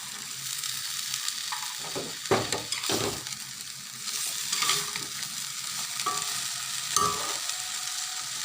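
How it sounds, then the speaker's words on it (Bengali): Cut potatoes tipped into a hot pan and stirred while frying, with a steady sizzle broken by a few louder scraping, clattering stirs of the utensil against the pan. "এখন নেড়ে চেড়ে নিয়ে আলুগুলো দিয়ে দেবো"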